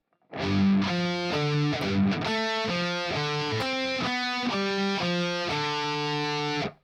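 Heavily distorted electric guitar playing a measure of a song's riff: a choppy run of sustained, gritty notes and short chords, loud and steady, with no voices.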